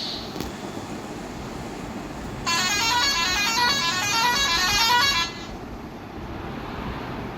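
A vehicle horn blares in road traffic, one sustained honk of about three seconds standing out over a steady hiss of passing traffic, with no talk.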